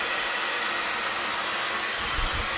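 A hair blow dryer running during a blow-dry styling session, a loud, steady, close airy roar filling the whole span with a slight low bump near the end, with no voices.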